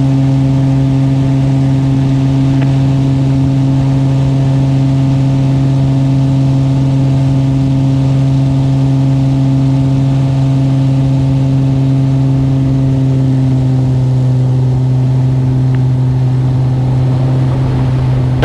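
Steady engine drone of a small aircraft in flight at about 170 knots with flaps up, a constant loud hum with strong low harmonics filling the whole stretch, unchanging and with no voices.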